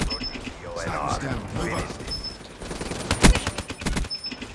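Rapid gunfire from Black Ops 3 multiplayer, with a burst of loud shots around the middle over game sounds and someone talking throughout.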